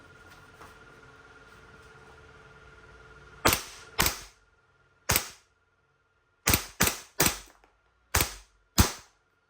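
WE 5.1K Hi-Capa gas blowback airsoft pistol firing seven sharp, loud cracks at irregular intervals, each with a short metallic decay, over a faint quiet background.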